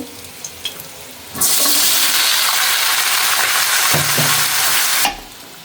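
Vegetables hit hot butter in a pan with a loud, steady sizzle that runs several seconds, with a few stirring clatters before it cuts off.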